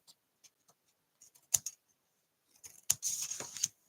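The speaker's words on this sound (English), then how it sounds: "Let's go ahead and trim off this because my glue is dry now" Scissors trimming excess card after the glue has dried: a few faint snips, then a sharper crisp cut and a longer run of slicing through the card, close and clear in a quiet room.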